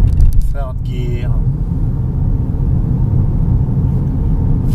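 A Hyundai Santa Fe with a six-speed transmission is manually shifted through its gears, and its engine gives a steady, loud low rumble inside the cabin after a brief burst of sound at the start.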